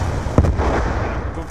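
A single sharp gunshot cracks out in Call of Duty Black Ops 2, a loud close report over a continuous background of game noise, with faint radio-style voice chatter around it.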